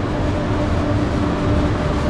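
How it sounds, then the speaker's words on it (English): A Korean bullet train pulls into a station with a steady, loud rumble of wheels and rolling stock, a dense continuous roar filling the short moment. "The train has arrived. So this is what a bullet train looks like."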